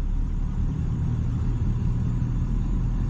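A Ford 7.3 Powerstroke diesel V8 with 205cc injectors runs on a quiet idle tune, producing a steady, close, low rumbling drone with no talk over it.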